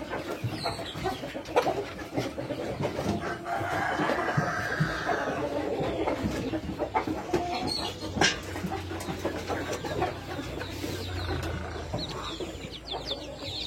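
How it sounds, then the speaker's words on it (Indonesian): Free-range sentul village chickens on a farm cluck and call in overlapping bursts, with a crow-like cry and a dog barking now and then amid a busy outdoor background of mixed animal noise. "Saya ternak ayam kampung sentul sudah sekitar 1 tahun."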